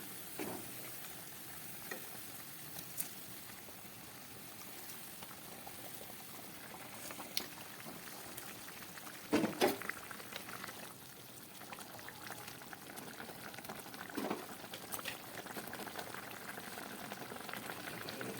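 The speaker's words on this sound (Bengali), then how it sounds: "মাছের ঝোলটা ফুটে উঠেছে" Fish curry gravy of pabda fish bubbles at a steady simmer in a pan, a soft continuous boil with occasional louder clinks and stirring knocks, no talking.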